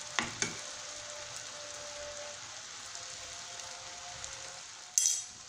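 Zalabia fry in hot oil with a soft, steady sizzle, broken by a few faint pops and clinks near the start and a brief louder scrape close to the end.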